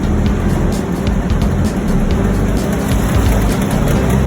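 Ship's engine running steadily during an ahead and astern test on board, a loud continuous rumble filling the engine space with no talk.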